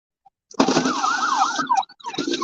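An ambulance siren wails through a parking lot, starting abruptly and sweeping up and down in loud, close warbling cycles before briefly breaking off and resuming.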